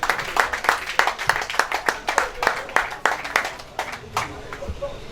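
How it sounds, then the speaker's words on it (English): A meeting audience gives a round of applause, a lively burst of distinct, fairly close hand claps that thins out toward the end, with voices faintly mixed in. "let us give ourselves a very sounding round of applause"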